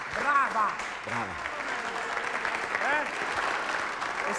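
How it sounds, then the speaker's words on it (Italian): An Italian TV comedy studio audience claps steadily throughout, a dense continuous applause with voices and cheers mixed in. "Facciamole un applauso"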